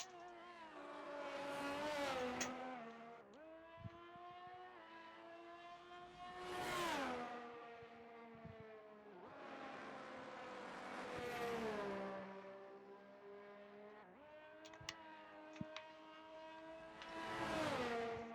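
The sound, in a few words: race cars leaving the pits on new tyres during qualifying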